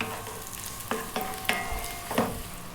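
Chopped garlic and onion fry over above-medium heat in a pan, giving a continuous sizzle broken by a few sharp spatula taps and scrapes.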